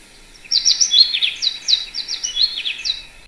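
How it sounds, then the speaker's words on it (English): An American goldfinch calls in a rapid series of bright, high chirps and twittering notes, clear and close against a quiet, near-silent background. "Specifically, that's an American goldfinch."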